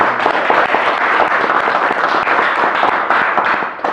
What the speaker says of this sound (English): please could we just give her a round of applause for her time